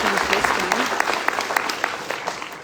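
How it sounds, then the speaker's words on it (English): An audience applauds the board at a public healthcare meeting in Muskoka. The clapping is loud and dense and runs the whole time. A faint voice briefly shows under it near the start. "So let's give them a round of applause."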